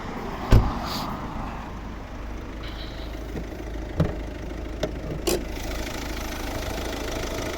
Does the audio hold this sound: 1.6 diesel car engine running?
yes